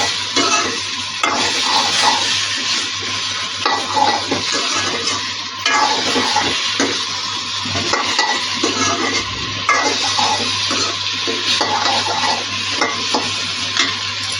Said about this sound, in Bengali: পরিমাণ মতন হলুদ দিয়ে দিব। নাড়াচাড়া করে দিব।